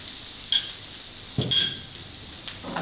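Chopped garlic and ginger sizzling in a hot pan for vegetable spring rolls, a soft continuous fry broken by a few brief sharper crackles and stirring scrapes close by.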